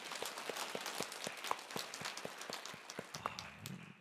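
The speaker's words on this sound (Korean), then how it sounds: "우리 하나님께 감사 박수 올려드리겠습니다" A church congregation gives a short round of thankful clapping during a sermon, sparse distinct claps in a loose rhythm, fairly soft and fading toward the end.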